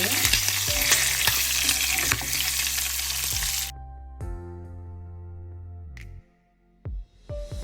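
Loud, dense sizzling of prawns frying in hot oil with occasional stirring clatter, then the sizzle drops away to quieter crackles.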